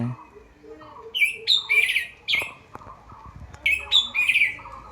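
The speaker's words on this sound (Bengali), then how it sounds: "এটা আমার ফেভারিট পাখি" A bird calls repeatedly outdoors near a house, bright squawking chirps in bursts, fairly close and clear, with faint low background noise between calls.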